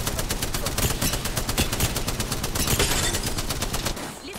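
Rapid automatic gunfire rattles on in Apex Legends, a fast, steady burst of loud shots that runs almost unbroken for about four seconds before cutting off.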